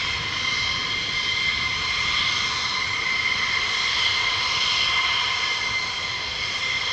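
An F-35 fighter jet passes overhead at RAF Lakenheath, a steady, loud broadband jet roar that holds evenly for several seconds with no voices over it.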